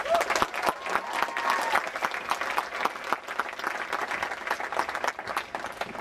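Crowd applause at a Six Flags Magic Mountain media event for the Superman: Escape From Krypton ride, honoring a Boys and Girls Club figure; dense, steady clapping from many hands fills the whole stretch, close and loud.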